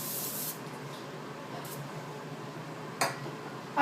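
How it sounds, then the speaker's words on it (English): A short hiss of canola oil cooking spray at the start, then quiet room noise with a couple of brief clicks or taps. "I'm just going to spray that on."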